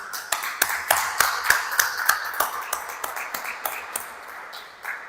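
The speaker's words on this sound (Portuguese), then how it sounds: "Então vamos aplaudir nosso Deus" A church congregation clapping in unison, sharp even claps in a steady rhythm, moderately close and without talk, slowing and fading slightly near the end.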